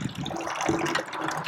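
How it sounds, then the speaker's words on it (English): Water drains out of the tank of a Truma RV water heater during decalcification, a close, steady gushing splash that runs the whole time at moderate loudness. "And you'll see that water kind of comes out here. This is just draining out of the tank."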